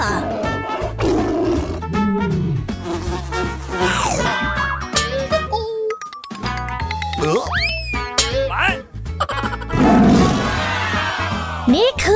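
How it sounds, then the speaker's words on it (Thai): A lion roars in a children's cartoon about animals, a loud growl amid playful music, boing effects and voices speaking. "สิงโต"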